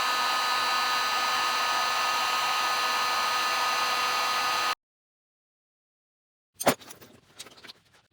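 A heat gun blows a loud, steady rushing whoosh while shrinking heat shrink tubing during a wiring install on a 2015 Jeep Wrangler JKU, then cuts off abruptly, followed by silence and a few brief handling clatters.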